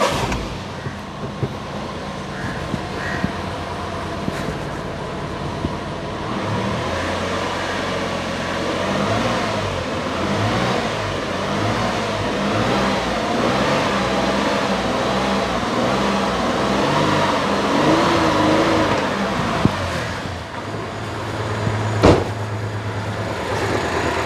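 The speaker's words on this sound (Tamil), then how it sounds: "இப்போ இந்த வண்டியை வந்து ஸ்டார்ட் பண்ணி பார்க்குறேன் பாருங்கள்." A used car's engine, part of a sale, runs steadily at idle, a close low rumble with a few small clicks and knocks over the top and no talking throughout.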